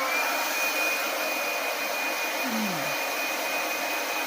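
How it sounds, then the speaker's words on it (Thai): A hair dryer blows steadily and loudly throughout, a constant broadband rush with a thin high whine and a brief low tone sliding down near the end, with no talking. "อันนี้คือเรื่องเป่าผมนะคะ"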